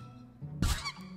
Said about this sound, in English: Why does that sound like a seagull?